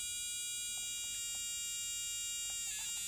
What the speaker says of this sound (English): Now the buzzer makes a very high-pitched sound as the red LED comes on.